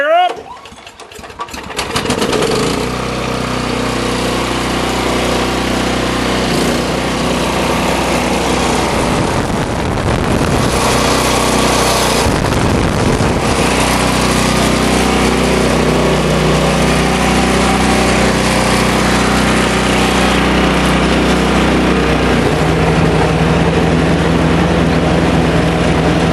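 Small gasoline engine on a Columbia blower cranked up, catching after a brief start and settling into a loud, steady, buzzing idle that runs without a break.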